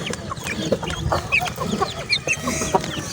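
Several chickens cluck and chatter in a busy, close chorus of short, overlapping calls from a group of grown birds, with no talking.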